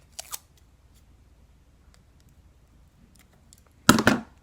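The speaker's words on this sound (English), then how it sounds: "I'm gonna take another piece of tape and cut it right here" A strip of tape is cut with scissors while a paper toy pistol is being assembled: a small snip near the start, then a louder, closer double snip at the end after a quiet stretch.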